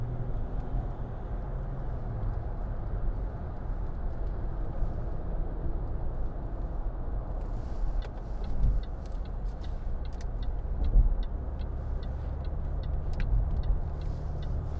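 2010 Range Rover Sport 3.0 TD V6 HSE cruising at 70 mph, a steady low road and engine rumble with tyre roar filling the cabin, faint ticking clicks appearing toward the end, no talking.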